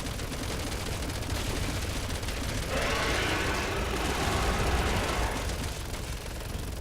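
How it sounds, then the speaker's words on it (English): Gunfire rattles in the Resident Evil 6 video game, a dense, continuous barrage of shots that keeps up steady loudness throughout, with a brighter burst in the middle and no voice over it. "Okay, I'm gonna keep shooting him."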